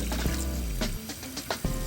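Kitchen tap water running over spinach leaves being rinsed in a colander, a steady close splashing flow with a few brief spatters and dips.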